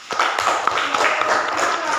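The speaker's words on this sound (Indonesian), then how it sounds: "Sekali lagi tepuk tangan." A classroom audience of students claps together in a dense, steady burst of applause that carries evenly through the whole stretch, with no pauses.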